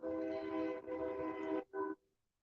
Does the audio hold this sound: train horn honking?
yes